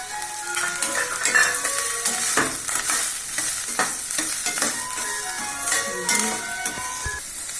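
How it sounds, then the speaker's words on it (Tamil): Garlic and green chillies sauté in hot oil in a pan for a momos filling, with a steady loud sizzle broken by repeated stirring scrapes and clinks of a utensil against the pan, no voices. "எண்ணெய் சட்டி போட்டு ஆயில் ஊற்றி பூண்டு, பச்சை மிளகாய் அதை வதக்கணுங்க."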